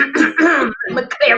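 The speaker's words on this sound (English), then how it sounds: "I'm clear my throat." A talk show host clears her throat with a couple of short, raspy voiced rasps, close and loud to the microphone, in a brief burst.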